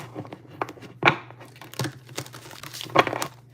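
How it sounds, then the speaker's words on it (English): A deck of tarot cards is shuffled close up, giving soft riffles and sharp papery snaps at irregular intervals over a faint steady hum, with no talk. "Let's do a good shuffle."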